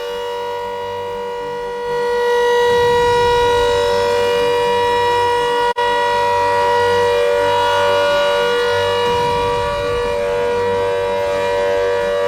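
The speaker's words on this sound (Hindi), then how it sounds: "ये आपने सुना, ये सायरन की आवाज" A loud air raid civil defense siren being tested in Meerut, India, wails continuously, its steady rising and falling tone sustained throughout with no voices.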